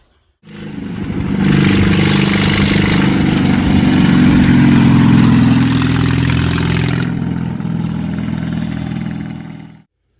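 A Ram pickup's dual exhaust starts up and rumbles loudly, revving and burbling close by for several seconds before cutting off abruptly.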